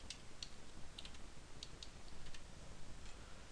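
Faint, quick taps of fingers typing on a computer keyboard, scattered clicks coming in uneven bursts over a quiet background.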